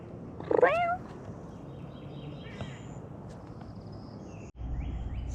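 A calico cat with black socks meows loudly and sharply in a short rising call, followed by a fainter second mew, over steady outdoor background noise.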